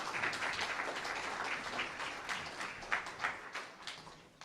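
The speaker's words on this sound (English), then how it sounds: "You can applaud if you want." Scattered audience clapping at an evening voters forum in Beaverton, a modest round of applause with uneven individual claps, moderately near and fading toward the end.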